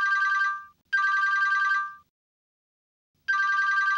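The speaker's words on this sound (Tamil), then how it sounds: "உனக்கு யார் ஃபோன் பண்றா?" A mobile phone rings in clear, loud electronic bursts, two close together and then another after a pause, with silence between them and no talking.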